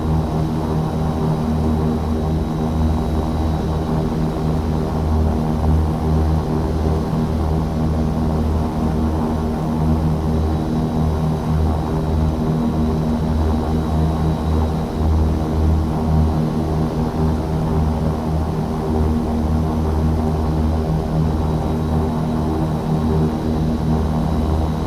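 Simulated airliner engines in flight in the FsPassengers flight simulator game, heard as a steady, loud, unbroken drone with low rumble and no voices.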